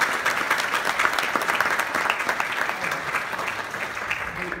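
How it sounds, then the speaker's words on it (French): Dense, steady applause from a seated audience at a health and digital technology forum, sustained clapping filling the room as a speaker is welcomed, with faint voices mixed in. "Donc je vais vous demander d'applaudir"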